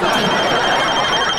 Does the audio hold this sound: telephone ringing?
yes